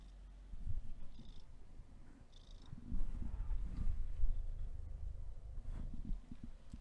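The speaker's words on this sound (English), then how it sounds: "Look at this kitty. Look at this kitty." Soft, close purring from a cat, a low rumbling flutter that swells and eases in an uneven rhythm, faint and alone.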